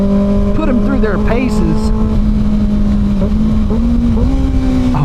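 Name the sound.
Kawasaki Ninja ZX6R 636 motorcycle engine revving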